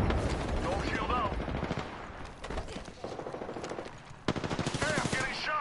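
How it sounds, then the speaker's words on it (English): Rapid bursts of automatic gunfire from an Apex Legends match, loud and close, with several sustained volleys and short gaps, and a voice speaking between the shots. "Hey, I'm getting shot."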